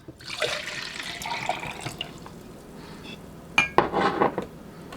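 Water splashes and trickles into a pot in two short bursts, with light clinks of metal in between, close by and fairly quiet.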